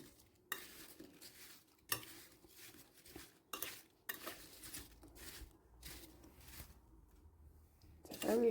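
Crumble mixture being stirred in a bowl, with a spoon scraping and clinking against the sides in a loose, irregular rhythm and several sharper knocks, fairly close and quiet, with no talking.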